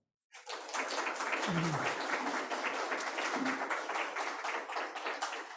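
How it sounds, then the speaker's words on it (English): An audience claps in sustained applause at an instructor welcome for teacher education, a steady dense wash of hand claps that starts abruptly and carries on without talk. "I just want to give them a huge round of applause"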